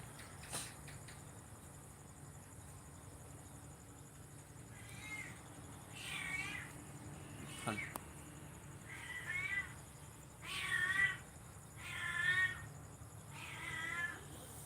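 Several cats meow in a drawn-out series of wavering calls, some overlapping, fairly close and moderately loud over a steady low hum, with no talking.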